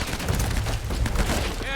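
Gunfire aimed at the player in Uncharted: Drake's Fortune, a dense rattling burst of rapid shots and impacts filling the short moment, loud and close.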